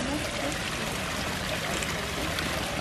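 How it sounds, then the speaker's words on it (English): A garden waterfall spills into a koi pond in a high desert garden, giving a steady close splashing and trickling rush that runs unbroken for about three seconds. "I love just hearing the waterfall"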